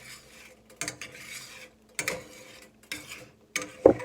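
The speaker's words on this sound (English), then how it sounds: "as you scrape the bottom of the skillet, how it rolls up" A spatula scrapes and rolls scrambled eggs, made from eggs frozen for over 16 months, across the bottom of a skillet, giving a few short, close scraping strokes with soft clinks between quiet pauses.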